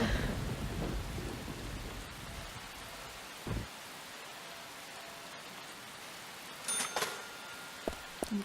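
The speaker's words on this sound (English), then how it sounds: "Just standing in the rain." Steady rain in the video game Deadly Premonition, a continuous hiss of falling water with a low rumble early on, brief soft knocks midway and a few sharper sounds near the end.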